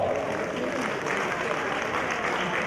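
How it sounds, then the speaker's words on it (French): Sustained, dense applause from an audience at an awards and retirement ceremony, a continuous wash of many hands clapping loudly and evenly throughout. "On applaudit très très très fort."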